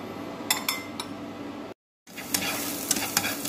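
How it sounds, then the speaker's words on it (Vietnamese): Onion and garlic hit a hot pan and fry with a steady close sizzle. A utensil stirs and clinks against the pan, and the sound drops out briefly partway through. "Mình bỏ hành và tỏi vào đây cho thơm thôi"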